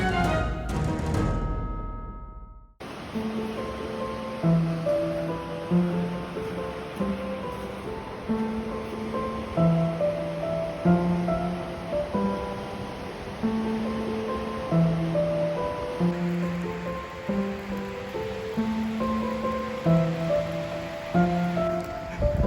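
Atlantic Ocean surf on the Brittany coast, a steady broad wash of breaking waves rolling in close and loud with no voices.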